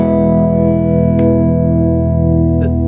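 Sustained electric guitar chord ringing through a thickening effect pedal on a GigRig G2 pedalboard, full and slightly doubled, with two faint pick scrapes partway through.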